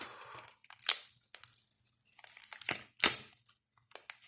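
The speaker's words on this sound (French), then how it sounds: "D'essayer d'enlever ce scotch dégueulasse qui colle super fort" Sticky tape is peeled from a crinkly plastic bag in short, crackling tears, with several sharp rips and quieter rustling in between, close up.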